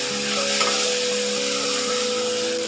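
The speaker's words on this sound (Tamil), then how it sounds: "கொஞ்சமாக மல்லி இலை, கொஞ்சம் புதினா போட்டு இன்னும் வசக்கிடு." Coriander leaves and mint sautéing in a pan for mutton curry, a steady loud sizzle with faint scraping of a spatula, close and continuous.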